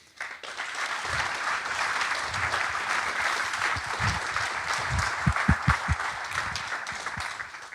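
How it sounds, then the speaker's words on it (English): Conference crowd applauding developers at a robotics software gathering, sustained many-handed clapping that swells after a quiet start, with a few sharper, closer claps standing out near the end. "I actually do want to give a round of applause for just all the developers"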